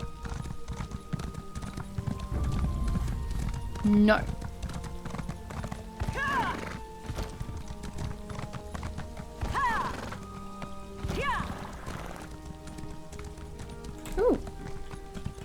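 Hooves clip-clop steadily as a horse gallops in The Elder Scrolls Online, with occasional whinnies and snorts over continuous game ambience, and a brief spoken word is heard.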